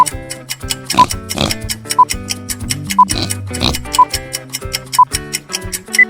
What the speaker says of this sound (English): A pig. Spot on.